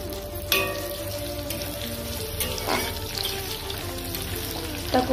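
Onions fry in hot oil for a mutton curry, giving a soft, steady sizzle and crackle with occasional louder pops and stirring clinks, fairly close and without talk.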